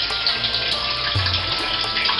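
Water from a pipe pouring steadily into a large storage tank, a constant close rushing and splashing wash with no pauses, heard alone without talk.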